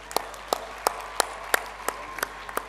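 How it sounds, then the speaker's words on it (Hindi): An audience at a camp event honoring the Indian Navy claps in a slow, steady rhythm: about nine sharp, evenly spaced claps, quiet and slightly distant. "इनका जोशो खरोश से ताली बजा के अभिनंदन करें"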